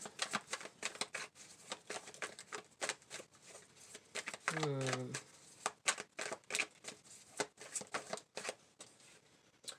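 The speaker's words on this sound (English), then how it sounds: "I'm going to pull some cards for clarity here for Libra" Tarot cards are shuffled in a dense run of quick, crisp riffling clicks that continue through the whole stretch, with a brief voiced sound in the middle.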